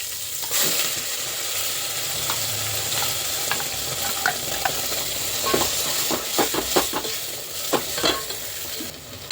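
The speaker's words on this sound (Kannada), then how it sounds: "ಇವಾಗ ನಾವು ರುಬ್ಬಿರೋದಂತ ಮಸಾಲೆ ಹಾಕೋಣ" Ground masala fries in a tempering of oil, mustard seeds, curry leaves and onion, a continuous close sizzle broken by repeated scraping and stirring clicks from a spoon in the pan.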